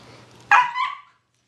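A single sharp, close bark from a 12-week-old puppy, indoors during lunchtime play, preceded by faint background noise.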